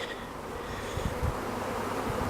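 A swarm of honeybees buzzes steadily around a small nuc hive outdoors, a dense continuous hum at moderate volume with no voices.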